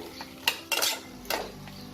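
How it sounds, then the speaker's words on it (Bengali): A spoon stirs tomato chutney with cashews in a metal pan, giving three sharp, close clinks against the vessel, spaced unevenly with quiet scraping between them. "এবার এটাকে মিশিয়ে নেব।"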